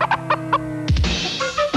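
A chicken clucks in a few short, clipped bursts over the first second, then a louder, fuller sound takes over; no one speaks.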